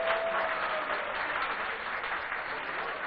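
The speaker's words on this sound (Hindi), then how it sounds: "मैं चाहूंगा एक बार जोरदार तालियां सीताशरण शर्मा जी के लिए" An audience applauds steadily at a public dialogue event in Madhya Pradesh on illegal sand mining in the Narmada, greeting an MLA with a dense, even wash of clapping heard from a slight distance at moderate-low volume.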